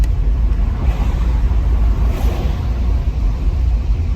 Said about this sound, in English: Take one last drive through.